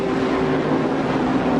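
Porsche and Jaguar race cars, rated at 750 and 650 horsepower, competing in a 1985 IMSA race at Riverside. Their engines make a steady, loud, unbroken roar with no gaps.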